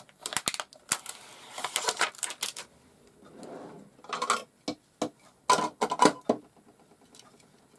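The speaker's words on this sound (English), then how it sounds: "it makes it much easier with these scissors." Tonic Studios scissors cut through paper in a run of sharp, crisp snips and crinkles, close and clear, with short pauses between bursts of rapid clicks.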